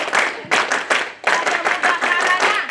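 A church congregation at a Sunday service claps the Indonesian scout rhythm, tepuk pramuka, loud and close in quick patterned bursts, with a brief pause before the next run of claps.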